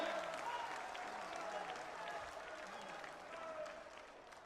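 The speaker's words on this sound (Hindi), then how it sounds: "जो लोग इससे सहमत हैं वो तालियों की गड़गड़ाहट से बताएं" Thunderous applause from a political rally crowd in Bihar, dense continuous clapping with crowd noise and faint voices underneath, swelling slightly again near the end.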